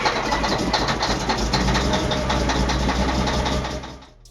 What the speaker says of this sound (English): the mining dump truck engine startup is incredible